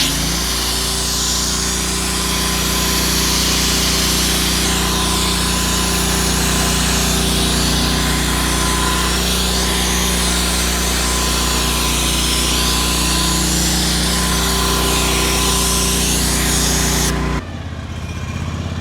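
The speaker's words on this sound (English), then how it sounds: "where we'll apply foam" Pressure washer running with a heavy-duty stainless steel foaming accessory head attached via the J5500K quick coupling system, spraying chemical foam: a loud, steady motor drone and hiss held continuously, cutting off abruptly near the end.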